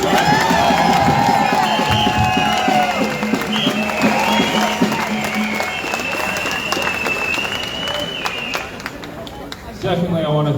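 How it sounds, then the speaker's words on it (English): Outdoor freedom rally crowd against forced vaccination applauds and cheers, loud clapping mixed with shouts and whoops and overlapping voices, thinning out toward the end. "everyone give yourselves a round of applause for being here"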